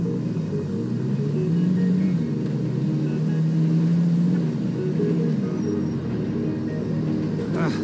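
A truck in Grand Theft Auto Online drives with a steady, close engine rumble and mid-range drone that rises and falls slightly, then fades near the end.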